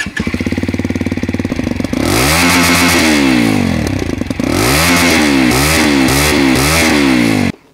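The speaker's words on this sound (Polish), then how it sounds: "Odpalmy go." A Barton Blade R 125 motorcycle engine starts and idles close by with a steady clatter, then is revved repeatedly in loud rising and falling bursts before cutting off at the end.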